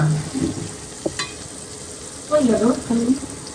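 Shing fish frying in a pan and stirred with a spoon: a low sizzle, then a few scraping, clattering strokes close by near the end, with faint voice-like sounds at the start.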